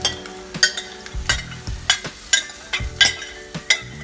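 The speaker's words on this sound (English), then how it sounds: "just you have to keep on stirring it a little bit" Cooked toor dal and spinach being stirred in a frying pan, with repeated scraping strokes of a spoon against the pan over a soft sizzle, close and fairly loud in an irregular rhythm.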